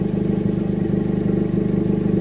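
A 2012 Fiat 500 with a straight-pipe exhaust idles close by, a steady low burbling drone with even, rapid pulsing and no talk throughout.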